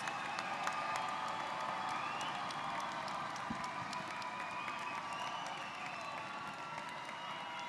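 A graduation audience applauds at a College of Social Sciences ceremony, a steady wash of many hands clapping that holds evenly throughout, with scattered voices and a whistle-like tone faintly under it.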